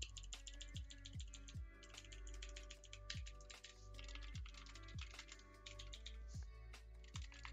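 Steady clicky typing on an SK61 mechanical keyboard, rapid uneven keystrokes with sharp clacks throughout, close up and fairly quiet, no voices.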